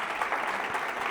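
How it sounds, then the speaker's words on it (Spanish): Applause from a seated audience at a colloquium on communication and evangelization, a steady dense wash of clapping filling the room at moderate level, with no voices over it. "Le damos un fuerte aplauso a Marcos."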